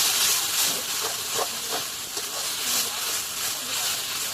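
Water poured into a pan of sizzling masala for a country duck curry produces a loud, steady hiss of steam and spitting oil, with soft bubbling pulses through it.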